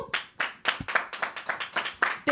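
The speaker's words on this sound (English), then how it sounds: "Can we get a quick round of applause," Audience clapping at a live show, a small group making sharp rhythmic claps in a quick steady beat of about ten hits, fairly close, with a short vocal sound at the end.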